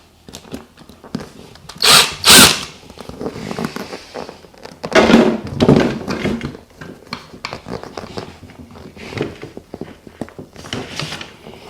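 Needle-nose pliers pry a broken plastic seat-bezel clip out of a C5/C6 Chevrolet Corvette seat, making loud close scraping and snapping bursts, with quieter fiddling clicks between them.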